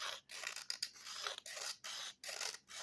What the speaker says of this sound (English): like doing some scraping in this bowl here